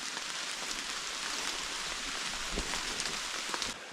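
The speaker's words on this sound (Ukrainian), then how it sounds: "Дощик такий досить гарний, літній" Light, warm summer rain falls in the mountains with a constant soft hiss, a few louder drops pattering nearby; no voices.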